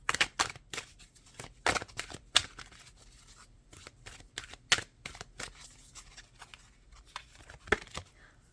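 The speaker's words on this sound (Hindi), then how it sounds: "एक कार्ड और निकालेंगे।" Tarot cards are shuffled and drawn, making quiet, irregular crisp snaps and riffling flicks with brief pauses between them. No one speaks.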